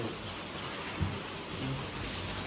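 Heavy rain falling at night, a steady broad hiss of downpour with a couple of faint thumps and no speech.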